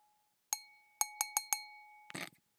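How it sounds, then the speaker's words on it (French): Drinking glasses clink together during a grape juice tasting, five sharp ringing taps with lingering tones, then a brief scraping rattle, close and alone in a quiet room. "J'aime trop faire du bruit en fait avec les verres."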